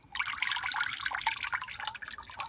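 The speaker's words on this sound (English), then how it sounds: "it's dripping, you know that's good." Rapid, irregular patter of water drops falling close by from a watered bonsai, a busy dribbling splash that continues steadily without pause.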